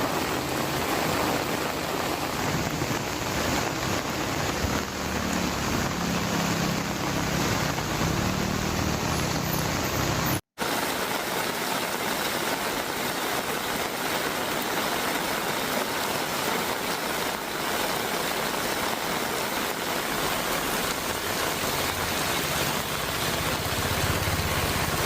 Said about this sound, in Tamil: பல்வேறு பகுதிகளில் மீண்டும் பரவலாக கனமழை பெய்து வருகிறது